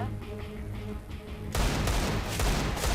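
Gunfire in Counter-Strike: Global Offensive, a dense continuous burst of rapid shots starting midway and holding loud to the end, over an earlier stretch of game background noise.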